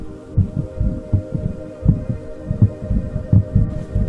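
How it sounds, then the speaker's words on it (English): A low, dull, quick heartbeat thumps steadily under a humming background, a repeating double throb close and prominent as a sound effect in a dramatic reading of Poe's The Tell-Tale Heart. "It was the beating of the old man's heart."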